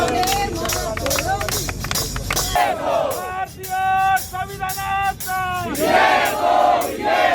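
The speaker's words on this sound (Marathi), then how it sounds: "धर्मेंद्र प्रधान यांच्या राजीनाम्यानंतर चंद्रपूर शहरात विद्यार्थ्यांकडून जल्लोष करण्यात आला" Students in Chandrapur celebrating in the street after a minister's resignation, a noisy crowd of shouting and cheering voices with scattered clapping and whistles, loud and close, with surges and brief dips throughout.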